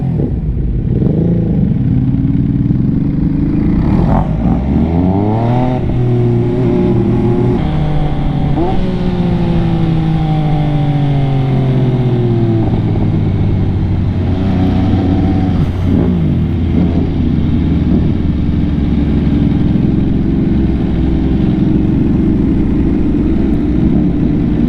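MV Agusta motorcycle fitted with an SC Project exhaust revs repeatedly, pitch rising and falling in several pulls over a loud, close, continuous engine note.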